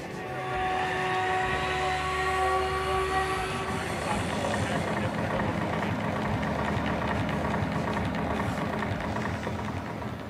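Military helicopters of a five-aircraft display team fly over Marina Beach, Chennai, at an IAF air show, a loud, steady rotor and engine drone with sustained tonal whine lasting throughout, no talk.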